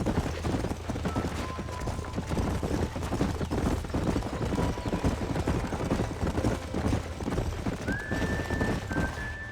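In Red Dead Redemption 2, horse hooves clip-clop steadily, with a neigh or two rising near the end. The sounds run at a moderate level over a busy in-game ambience.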